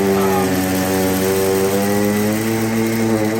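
A Sebo or Miele vacuum cleaner runs steadily along an edge, its loud motor whine holding a constant pitch with layered harmonics and no pauses.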